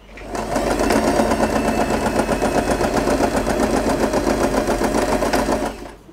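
A sewing machine stitches a seam in scrunchie fabric, a close, steady rapid mechanical whirring that starts, runs evenly for about five seconds and stops, with no talking over it.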